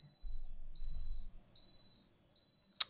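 A dehumidifier full of water beeps over and over, giving four or five evenly spaced high electronic tones, moderately quiet against a low room rumble, then a sharp click at the end.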